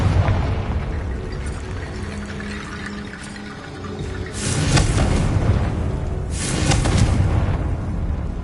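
A Confringo blasting spell from a Hogwarts video game bursts twice in booming, rumbling explosions, each with a roaring wash of debris after it, loud and close over a low ambient drone.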